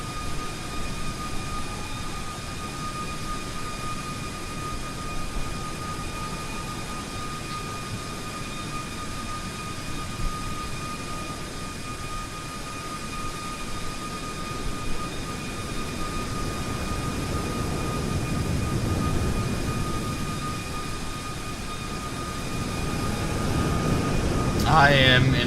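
Boeing 737 MAX 8 engines in Microsoft Flight Simulator 2020 give a steady whining jet hum with a broad airy rumble that swells toward the end.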